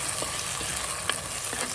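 Ginger-garlic paste and chicken sizzling in a pan for an onion and dried red chilli chicken fry, a constant bright crackle with a few soft stirring knocks, no voices.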